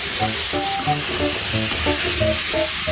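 Fried jackfruit with crushed chilli being stirred in a pan, a steady loud sizzle with repeated scraping strokes of the spoon in an even rhythm, close and continuous.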